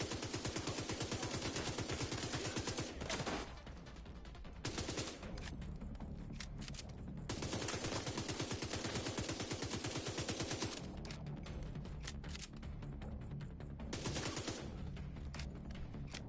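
Rapid automatic gunfire from a gun in Division 2 pours out in long, loud, sustained bursts, with brief breaks between volleys.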